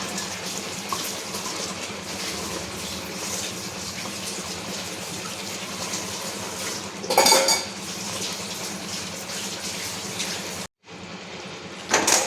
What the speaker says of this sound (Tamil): புதினா, கொத்தமல்லி, பச்சை மிளகாய் அரைச்ச விழுது ஊற்றி நல்லா கிண்டிக்கோங்க